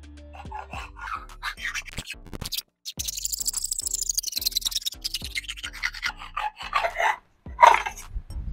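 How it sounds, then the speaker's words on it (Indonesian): Steady back-and-forth rasping of a hand saw cutting through a motorcycle brake lever handle, close up, with a brief pause midway before the strokes resume. "kita potong pakai gergaji saja"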